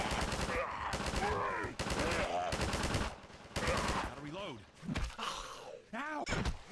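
Armed NPC in a Zombie SNPC video game mod firing at a zombie: repeated rapid gunfire bursts in several volleys, mixed with zombie groans and growls between the shots, fairly loud throughout.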